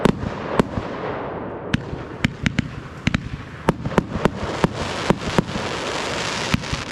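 New Year's fireworks bang repeatedly in the distance, with sharp irregular cracks spaced a second or so apart over a steady hiss of crackling background.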